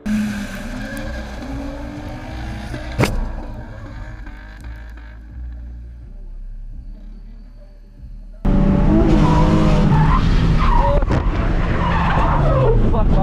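A race car loses grip and skids with a long tire squeal and roaring engine, then a sudden loud burst of scraping, crashing noise, with excited voices speaking around it.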